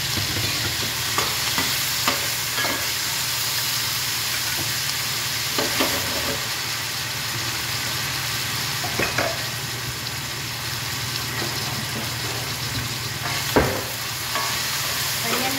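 Tomatoes and chili sizzle steadily in a hot pan, with occasional spatula scrapes and clacks as they are stirred, a continuous close frying hiss and no talking.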